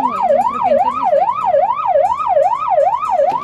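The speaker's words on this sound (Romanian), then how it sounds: "În două minute, ambulanța ajunge la caz." A loud, close SMURD emergency ambulance siren in Romania, wailing up and down in a rapid, steady rhythm on its way to a call, with no talk over it.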